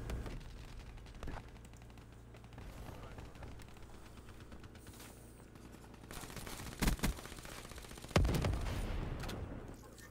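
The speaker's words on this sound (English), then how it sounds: "Just nades everywhere" Grenade blasts and gunfire in Black Ops 3 multiplayer: steady low battle rumble with a few sharp bursts, two strong blasts near the end, loud and close.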